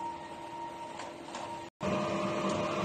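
A DTF printer runs a print head cleaning cycle with a steady mechanical whir and hum. The sound cuts out briefly near the end, then resumes.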